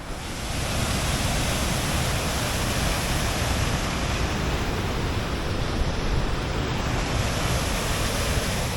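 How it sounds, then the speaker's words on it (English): White water rushes loudly and continuously upstream of Low Force waterfall, a steady close roar that swells slightly at the start and holds without voices. "You can hear the water and the white water starting to build up towards it."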